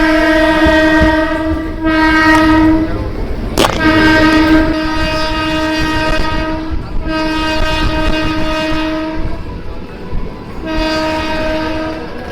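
At Bongaon junction station a train sounds its horn in several long, loud blasts with a sharp clank between them, over the rumble of the train.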